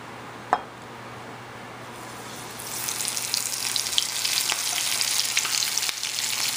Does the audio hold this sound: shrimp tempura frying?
yes